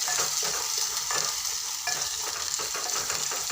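Tomato cooking in a pan for a potato and brinjal curry, with a continuous close sizzle and faint bubbling and no voices.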